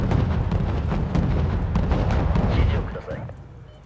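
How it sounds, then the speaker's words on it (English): A Kongo-class warship in the naval wargame Wargame fires missiles, making a dense rumbling barrage of launch roars and booms that sustains loudly for a few seconds, then fades. "When the Congo fires its missiles again"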